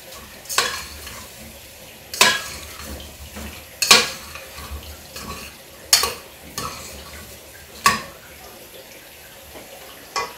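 Sausage and bacon sizzle steadily in a pan while a utensil stirs them, scraping and clattering against the metal in repeated strokes every couple of seconds, close and fairly loud.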